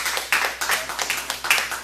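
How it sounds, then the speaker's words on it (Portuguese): A congregation claps during a church service, with a few uneven bursts of handclaps in a short, ragged rhythm over a quiet background. No one is speaking. "você pode aplaudir o Eterno"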